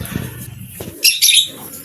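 Pet parrots chirp and squawk briefly after a bath, with a low rustle and a couple of short, bright calls close by.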